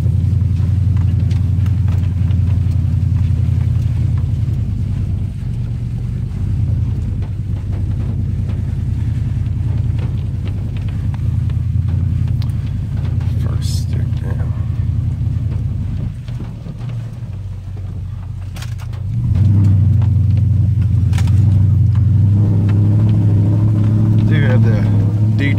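A Nissan Titan pickup drives off road through mud, its engine droning loud and steady with low rumble throughout, dipping briefly then surging louder near the end, with wind buffeting the microphone.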